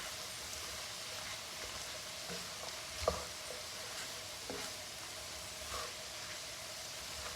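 Translucent vegetables, including potatoes, sautéing in a pan on medium-high heat, giving a soft, steady hiss and sizzle with a few faint clicks from stirring, close but quiet and unbroken by speech.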